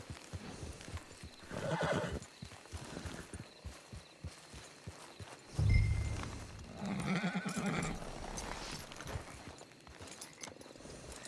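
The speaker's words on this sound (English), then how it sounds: "It's your horse." A horse in the Red Dead Redemption 2 video game whinnies loudly and snorts, its hooves clip-clopping steadily on the ground throughout, with a heavy thud midway and ambient outdoor game sound underneath.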